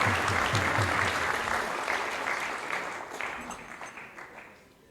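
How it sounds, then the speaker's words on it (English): Audience applause at a temple graduation ceremony for a college of education and culture, a dense crowd clapping that holds steady and then gradually fades toward the end. "Let's give them a nice round of applause."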